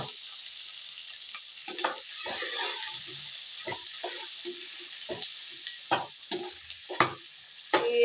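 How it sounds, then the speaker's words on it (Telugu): Chopped onions and green chillies sizzle steadily in hot oil in a pan, a close, continuous frying hiss broken by scraping stirs and clinks from a utensil, with no talking. "ఇంక ఈ ఆయిల్లో ఉల్లిపాయలు వేసేద్దాం."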